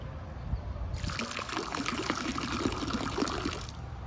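Water pouring into a toy water gun, a steady trickling fill that starts abruptly about a second in and runs continuously before cutting off near the end, close by and fairly quiet, with no talk.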